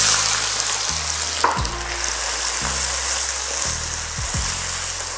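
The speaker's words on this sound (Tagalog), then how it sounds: "Inuuna ko lang munang igisa itong sibuyas para mas ma-emphasize yung lasa nito." Onion sautéing in oil for beef caldereta, a steady loud sizzle filling the clip with a few stirring scrapes and no voices.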